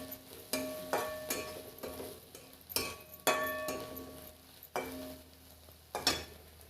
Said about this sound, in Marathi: हळद टाकूया आता ही सगळं आपण तेलात हलवून घ्यायचं